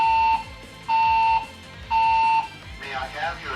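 Building fire alarm sounding three long, loud electronic tones in a steady on-off pattern, each lasting about half a second, with a recorded announcement voice talking underneath and between the tones.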